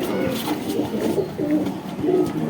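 A Bajrai pigeon coos close by in soft, repeated rolling phrases, several low throaty calls following one another without pause, with no speech over them.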